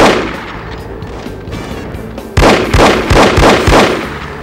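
Gunfire in No One Lives Forever: after a quiet stretch, a rapid burst of about six loud, sharp shots rings out close up.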